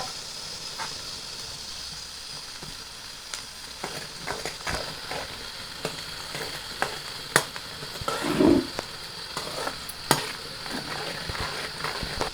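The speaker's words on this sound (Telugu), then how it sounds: "పచ్చిమిరకాయలు వేస్తా ఉన్నాను." Green chillies fry in hot oil with onions for a fish pulusu, giving a steady moderate sizzle and hiss, broken by scattered clicks and a louder stirring clatter.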